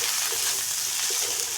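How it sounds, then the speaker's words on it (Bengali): Chillies, chopped tomato, ginger paste and chilli powder sizzle steadily in a hot pan while being stirred for a goose-egg curry, a close, continuous frying crackle with no voices. "ভালো করে কষিয়ে নেব একটু।"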